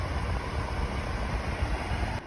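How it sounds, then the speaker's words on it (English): A Ryobi 4-inch clip fan on high blows directly toward the microphone, producing a steady, rough wind noise with low rumbling buffeting close up. "this is the sound of the fan on high"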